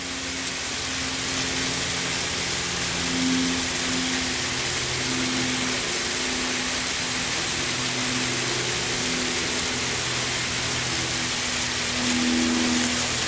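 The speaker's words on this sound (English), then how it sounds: "Basically creating a shower right over that tree." A garden hose rigged as an overhead shower sprays water down onto a jackfruit tree for freeze protection, giving a steady, close, dense hiss of falling droplets with a faint low hum beneath, no voices.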